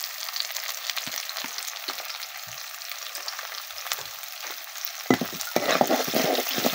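Bay leaf and cinnamon fry with onions in a hot pan, sizzling steadily under light stirring scrapes; the frying grows louder and busier near the end.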